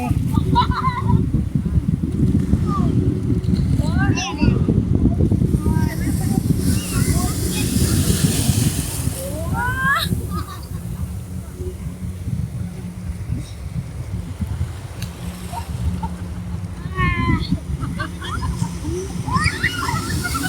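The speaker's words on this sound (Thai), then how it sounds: "คลื่นแรงมากจนหลงเอ๋อนะครับ" Strong, salty sea waves crash at Chao Lao Beach in Tha Mai, Chanthaburi, as a continuous loud wash and roar under windy conditions, while people talk intermittently.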